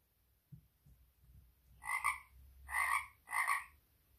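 A frog croaks three times in a row, each call loud and close with short pauses between, following a faint low thump at the start.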